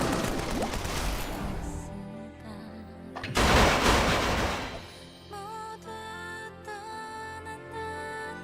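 Dual guns firing in the video game Mabinogi give a dense burst of rapid gunshots that cuts off, then a second loud volley, followed by tonal game music and effects.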